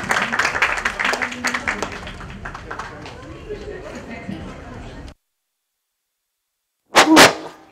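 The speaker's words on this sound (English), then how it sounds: "May we have a huge round of applause for him." Audience applause at a literature festival session on cartoons and a graphic novel, a dense wash of clapping and crowd noise for about five seconds, then a pause and a short burst of speech.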